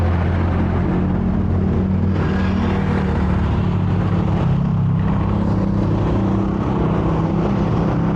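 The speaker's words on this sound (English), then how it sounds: "Another bus is coming." A bus passes along a road between Taytay and Antipolo, its heavy engine rumbling loud and steady throughout, swelling slightly as it goes by with continuous road noise and no talk.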